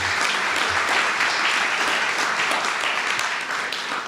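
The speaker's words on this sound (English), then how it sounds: "please join me and applaud." Sustained applause from a large crowd at a pensions conference panel discussion, steady and dense clapping throughout without a break, fading slightly toward the end.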